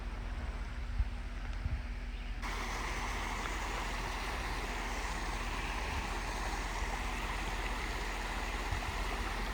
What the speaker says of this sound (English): there's actually a creek down there.